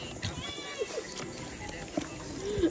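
A cat meows a couple of times, short and fairly soft, amid indoor chatter and background noise during a game of tong-its cards.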